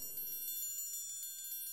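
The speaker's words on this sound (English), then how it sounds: "A tremolo on the triangle." Orchestral triangle tremolo from a sample library, a bright metallic shimmer with rapid even repeated strikes ringing steadily and fairly softly throughout, with no voices.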